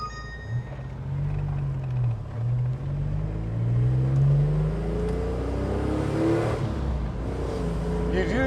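A 1972 Citroën SM's Maserati engine drones steadily while driving, a low rumbling tone that rises in pitch as the car accelerates. It stays loud and continuous throughout, with faint cabin noise.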